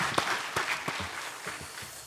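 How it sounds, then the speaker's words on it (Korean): A church congregation at a Sunday worship service gives a short burst of applause. Scattered, moderately loud claps come from the room and fade quickly. "영광의 박수를 하나님께 드리겠습니다"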